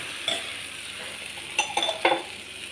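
Rava dosa batter cooking on a pan over a low flame gives a soft, steady sizzle, broken by a few brief scraping and clinking touches of a utensil, close and fairly quiet with no talking.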